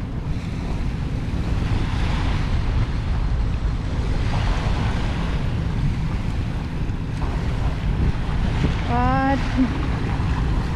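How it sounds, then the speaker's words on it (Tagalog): Rough surf and strong wind along Manila Bay, a steady broadband roar of breaking waves and gusting wind buffeting the microphone throughout, with a brief voice near the end. "kahit na maalon, malakas ang hangin"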